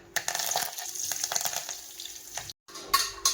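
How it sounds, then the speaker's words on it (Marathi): A tadka tempering for sambar hits hot oil with a sudden bright sizzle and spattering crackle, fading and briefly cutting out before a fresh burst of frying near the end, with no talking. "इथं देणार आता बघा छान तडका"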